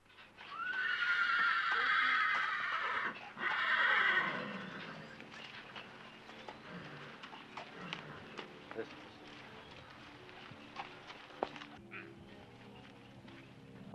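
Horses neigh loudly and close by for the first few seconds, then hooves clip-clop intermittently on the ground at a moderate distance, outdoors in Brittany.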